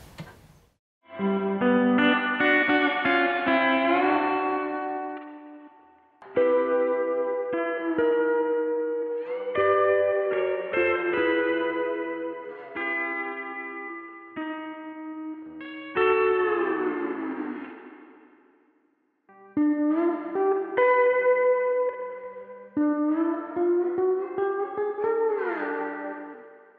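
Sliding lap steel guitar notes drenched in echo and chorus effects, played in several phrases separated by short pauses, with long shimmering tails.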